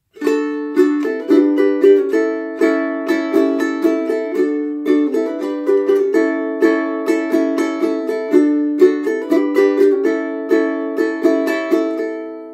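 Bright plucked ukulele strings strummed in a steady, repeating rhythmic pattern for a song, close and clear with crisp attacks and no voices.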